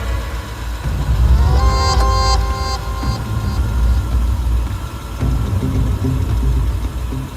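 A car engine turns over with a short whining crank, then settles into a low, steady idle rumble nearby inside a garage.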